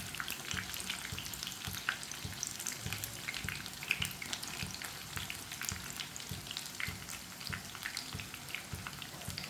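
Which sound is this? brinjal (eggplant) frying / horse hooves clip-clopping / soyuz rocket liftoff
brinjal (eggplant) frying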